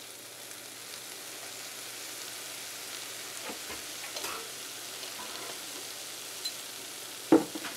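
Sweet zarda rice being mixed in a pan, a soft, steady sizzling hiss with faint scraping stirs and a sharper clink near the end, heard alone at low level.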